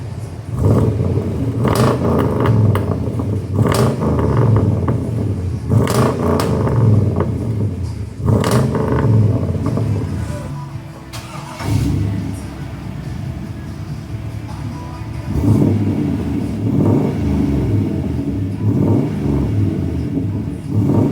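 Old-body Ford pickup engine fitted with an X-pipe exhaust, running steadily with a deep, loud rumble and several repeated throttle blips, plus passing road traffic in the background.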